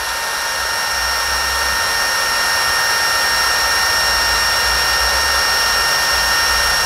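A Tekiro CDID2071 20V cordless impact driver runs freely at high speed, making a loud, constant motor whine that holds steady without a break.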